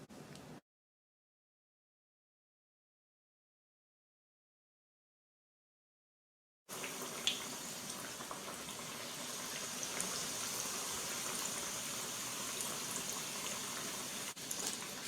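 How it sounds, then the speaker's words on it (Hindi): Cheese-stuffed potato drumsticks frying in hot oil, a steady crackling sizzle that starts abruptly after a silent gap and runs on evenly with a bubbling hiss. "चलिए अब मैं आपको इसको फ्राई करके बताती हूँ।"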